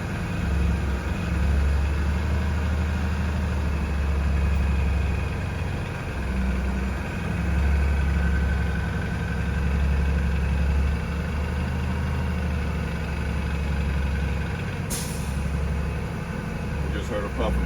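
A bus engine idles steadily while its air brake tanks fill, a constant low rumble and vibration that never lets up, with a brief hiss of air near the end.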